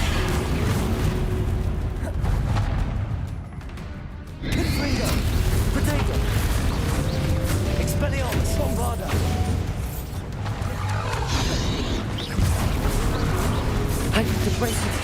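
Explosive spell blasts from Hogwarts Legacy combat, including Confringo, Bombarda and Incendio, pound one after another in a dense, loud barrage of booms and crashes with a brief lull near the middle.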